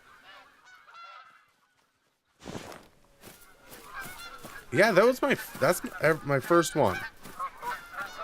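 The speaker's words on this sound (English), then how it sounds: "No fleeing goose." Geese honk in the hunting game Call of the Wild, several loud calls in a rapid, overlapping run, with a voice speaking briefly before and among them.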